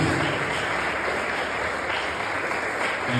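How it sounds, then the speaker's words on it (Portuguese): A church congregation claps together in a dense, steady wash of applause that fills the room, loud and sustained, with no voices rising above it. "Você pode aplaudir bem forte em nome de Jesus Cristo."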